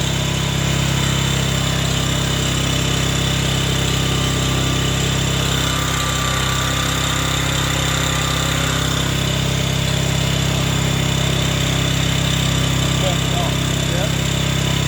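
A Thunderstorm Generator engine runs steadily with a constant loud mechanical drone and hum while its exhaust is being measured, with voices talking faintly over it.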